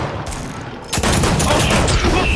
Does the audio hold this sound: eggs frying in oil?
no